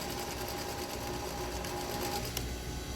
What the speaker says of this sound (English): So sewing at 1/4 inch, locking at the beginning and locking in the end.